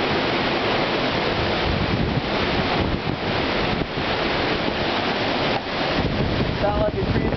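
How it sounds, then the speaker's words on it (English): Strong Hurricane Sandy wind roars continuously and loudly, buffeting the microphone with dense, rushing noise and slight surges. "That's just the wind."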